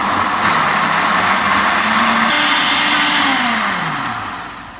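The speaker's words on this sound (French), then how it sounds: "Donc là on va venir tout simplement mixer." A kitchen blender runs continuously at high power, a loud close whirring motor whose pitch shifts and wavers as the ingredients churn, then winds down toward the end.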